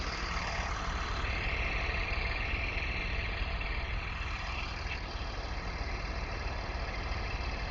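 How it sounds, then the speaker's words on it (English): A Mercedes engine idles with a steady low rumble and hum, continuous and close, with no talking. "I love hearing this Mercedes engine."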